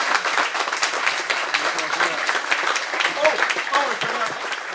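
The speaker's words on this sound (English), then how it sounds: "Let's big round of applause." A room of people at a talk gives a steady round of applause, dense fast clapping at moderate volume lasting throughout.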